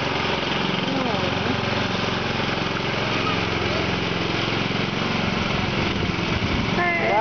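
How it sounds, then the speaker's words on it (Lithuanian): A ride-on lawn mower mows a yard with a steady, fairly close engine drone throughout, and voices talk faintly in the background. "Va, pjauna kiemą."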